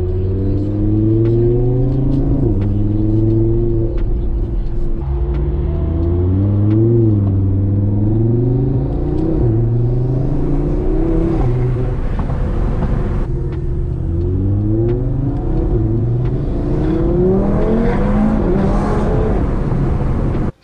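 Tuned Stage 2 Audi TT RS and a tuned Mercedes-AMG CLS 63 S racing, with loud, close engine roars that climb steadily in pitch through repeated upshifts, dropping briefly at each gear change, continuous for about twenty seconds with no talk.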